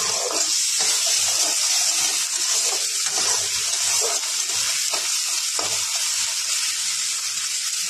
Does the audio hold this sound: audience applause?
no